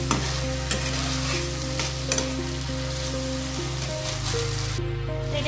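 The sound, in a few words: stir-frying spices with turmeric in a pan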